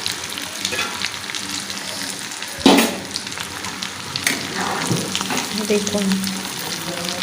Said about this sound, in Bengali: লোটে মাছের চপগুলো একদম লাল লাল করে ভাজা হয়ে গেছে